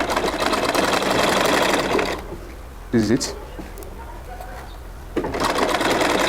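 An electric sewing machine stitches the folded fabric of a native trouser pocket, a fast steady buzzing whir that runs loud, pauses briefly while a person speaks, then starts up again.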